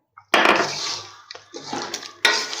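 Half a cup of water poured into a pan of ridge gourd and chicken curry, a close rushing splash that starts suddenly, eases, then surges again, with a faint clink just before the pour.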